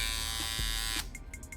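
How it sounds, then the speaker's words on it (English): Electric hair trimmer fitted with a deep tooth blade buzzing steadily up close, then briefly cut off and followed by a few faint clicks. "Here go the trimmer."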